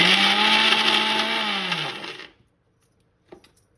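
A kitchen mixer grinder runs on roasted raw banana, a loud steady whine with its pitch sliding downward as it winds down. It cuts out after about two seconds, followed by near silence and a faint clink.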